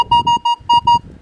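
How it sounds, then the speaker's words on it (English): A Manticore metal detector gives an iron tone: a series of short, high beeping tones, five quick bursts in an uneven rhythm over a low rustling background. "Now what you're hearing is you're hearing iron tone."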